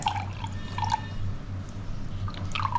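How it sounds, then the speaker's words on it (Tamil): Ground juice strained through a filter, a soft dribbling trickle with small drips and gentle splashes, close and continuous over a low steady hum. "இப்போது இதை நம்ம நல்லா ஃபில்டர் பண்ணி எடுத்துக்கலாம்"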